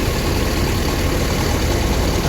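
A Rosalia Indah bus engine idles with a steady, loud, dense rumble that holds unchanged throughout, with no voices.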